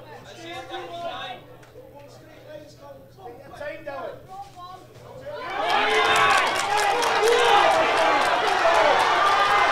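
A packed boxing crowd at a sold-out hotel venue in Inverness erupts into loud, sustained cheering and roaring, first under a few seconds of nearby chatter and then swelling into a dense, continuous wall of noise.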